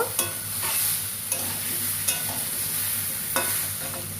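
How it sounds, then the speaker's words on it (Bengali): Tomatoes sizzle and fry in a pan for a Bengali crab curry, with a spoon scraping and stirring at a few sharp strokes over a steady, close frying hiss. "টমেটো দিয়ে একটু ভালো করে কষা করে নেব।"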